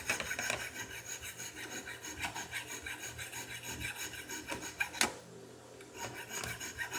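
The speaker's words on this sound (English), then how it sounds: "trying to round this end of the eye bolt that I'm shaping" Hand file rasping back and forth on the end of a metal eye bolt being rounded, a steady close scraping rhythm with one sharp knock and a brief pause near the end.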